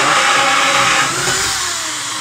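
A power drill bores holes through a door to fit a Bardi RFID fingerprint smart door lock handle, a loud steady whining drone that dips slightly partway through and runs on without talk.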